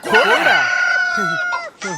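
A rooster in a Telugu comedy film scene gives a loud, close, drawn-out crow, followed by a couple of shorter clucking calls.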